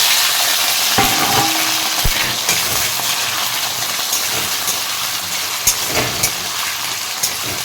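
Cleaned potatoes fry in hot oil with a loud, close, continuous sizzle, while occasional clinks and scrapes of stirring come through at irregular moments.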